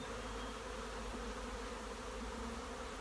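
Honey bees buzzing around a hive, a dense steady droning hum, close and continuous, with no talking.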